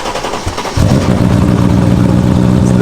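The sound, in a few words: BMW 540 cold start with muffler and cat delete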